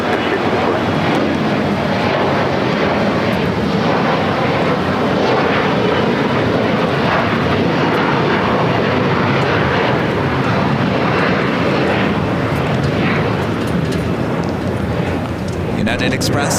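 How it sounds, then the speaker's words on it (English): A United Express SkyWest Embraer E175 jet at Los Angeles airport gives a steady, loud roar of engine noise that fills the whole stretch, with wind buffeting the microphone and voices talking over it. "United Express SkyWest, flight 5247, heading to Monterey, California. It's an E175."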